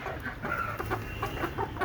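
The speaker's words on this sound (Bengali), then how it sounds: "আর এদিকে দেখেন এগুলো হচ্ছে কোচা মুরগি।" Broody hens cluck on a poultry farm in a short burst of low, repeated clucks and murmurs from several birds close by, with no talk.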